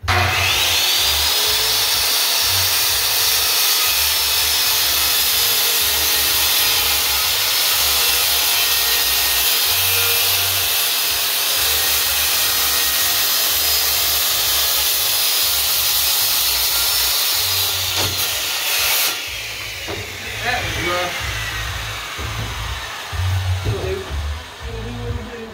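A table saw cuts wood for a workbench drawer, a loud sustained whine of the blade running through the board for about twenty seconds before it winds down amid shop noise.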